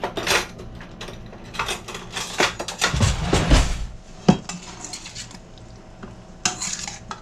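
Vegetables for a beef and broccoli stir fry are stirred in a pan or bowl, giving repeated scraping and clattering strokes with utensil knocks, a brief heavier rattle midway, and a faint sizzle underneath.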